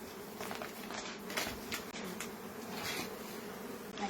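Honey bees drone in a hive cut from an old chest of drawers, a close, steady buzzing hum with a few louder passes near the microphone and no talking.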